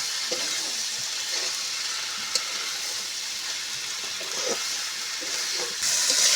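Rohu fish curry with Malabar spinach and cumin powder being sautéed in a pan: a steady, close hiss of frying with soft stirring scrapes and occasional small clinks, no voices.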